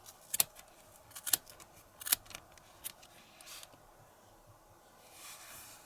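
A few quiet, sharp snips of scissors sound at irregular intervals, close by but faint, with soft rustling in between and no voices.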